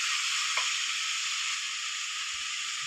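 Shallots and green peas sautéing in a pan, a steady bright sizzle running throughout with a light scrape of stirring, no voices.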